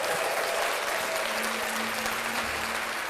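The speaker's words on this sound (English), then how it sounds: "So let's clap that up again." Sustained applause from a crowd on a podcast, a dense steady wash of clapping held at an even level for about three seconds, loud and filling with no voices over it.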